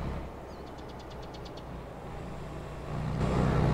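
A truck engine in Farming Simulator rumbles steadily as the vehicle drives, a low continuous drone that swells louder toward the end, with a brief series of short electronic beeps early on.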